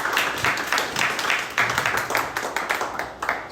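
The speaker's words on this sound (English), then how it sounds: "give a round of applause to our panel" Applause for a three-member discussion panel at a campus politics event, a steady patter of clapping from a modest audience with rhythmic bursts, fairly close and alone without talk.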